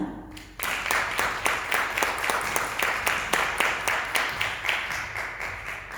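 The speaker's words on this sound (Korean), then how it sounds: "큰 박수로 모시겠습니다." Seminar audience applauding to welcome a speaker: after a brief quiet start, moderate clapping rises and continues as a steady, slightly pulsing patter throughout.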